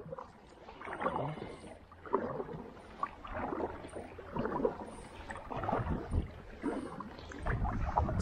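Canoe paddle strokes on a calm lake in the Adirondacks, soft repeated splashes and water gurgles recurring every second or so, close and moderately quiet with light wind.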